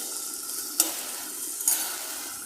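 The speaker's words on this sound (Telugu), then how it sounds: "కొత్తిమీర కూడా టూ ఆర్ త్రీ మినిట్స్ ఆయిల్లో డీప్ ఫ్రై అవ్వాలి" Coriander leaves deep-frying in oil on a low flame for a mint chutney make a steady soft sizzle, broken by two brief louder crackles or stirs.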